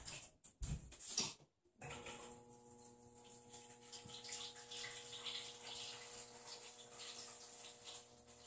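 Water trickling and splashing into a container, close and steady, after a few brief clunks at the start, with a faint hum underneath.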